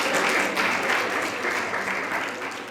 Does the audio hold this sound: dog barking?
no